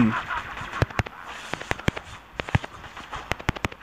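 Hero Clint firing shots in the mobile game Mobile Legends: Bang Bang, a string of sharp, loud cracks in quick irregular bursts over a busy game soundtrack.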